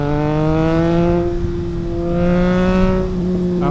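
A Triumph Trident 660 three-cylinder motorcycle fitted with an aftermarket custom exhaust drones steadily, its revs rising and falling in smooth waves, loud and close with no talking.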